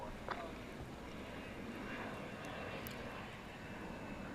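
An airplane taking off at night at DFW airport: a steady, distant broadband roar that holds at an even level for the whole stretch, with a faint voice briefly audible in the background.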